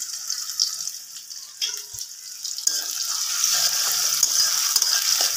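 Chopped onion dropped into hot oil for a potato fry: sizzling that swells into a loud, steady hiss after a clatter as the onion goes in, close up, with a few stirring scrapes.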